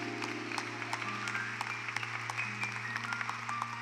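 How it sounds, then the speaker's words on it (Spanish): Faint, scattered clapping from a church congregation over a soft, sustained organ-like tone, fairly distant and low in volume. "Vamos, dale un aplauso a Jesús."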